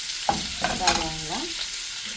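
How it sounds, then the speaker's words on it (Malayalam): Onions sizzling in hot oil in a pan, a steady close-up fry with a few utensil scrapes and stirring knocks over the continuous hiss. "സവാള അങ്ങനെ പൊരിഞ്ഞ് വരുമൊന്നും വേണ്ട, ഒന്ന് കളറ് മാറി വന്നാൽ മതി"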